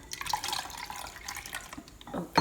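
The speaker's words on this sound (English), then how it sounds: "Let's add our other Coca-Cola in here." Coca-Cola poured into a Jell-O mixture, a light trickling, splashing pour with small drips and fizz, close and fairly quiet, ending in a brief clink.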